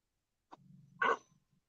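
A small female dog gives one sharp, loud yelp-like bark very close to the listener, preceded by a brief low rumble, in a quiet room.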